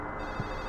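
A brief burst of telephone ringing in Silent Hill 4, faint and buried within a thick, constant ambient drone.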